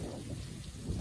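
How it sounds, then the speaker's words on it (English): Heavy rain and wind in a violent storm roar as a dense, steady wash of noise with low rumbling, brief and fairly faint, with no voices. "It's raining. It's windy. It's violent."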